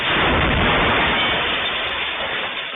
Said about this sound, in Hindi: रॉकेट अटैक के बाद इलाके में जोरदार धमाका हुआ है